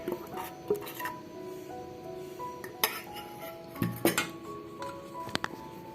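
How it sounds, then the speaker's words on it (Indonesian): A spoon or spatula stirs mooncake skin ingredients in a bowl, giving close, irregular clinks and scrapes of utensil against the dish, with a few sharper knocks standing out, and no voices. "Kita aduk semua bahannya hingga tercampur rata. Ini kita menggunakan sendok atau spatula saja."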